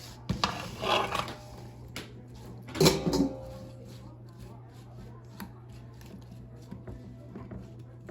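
Cut potato fries are tipped onto a metal baking sheet in a home kitchen. Two short bursts of clattering and tapping come a couple of seconds apart, and quiet handling noises follow.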